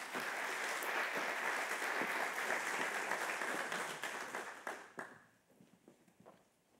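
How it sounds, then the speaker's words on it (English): An audience at a building-industry conference event applauds loudly and steadily for several seconds, then the clapping thins out and fades to scattered claps near the end. "Give a round of applause to Milo Riverso."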